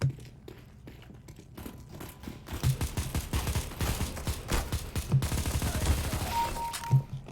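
Counter-Strike: Global Offensive rifle fire sounds in rapid bursts and sustained volleys of gunshots, loud and dense, with a few scattered single shots before the heavier firing.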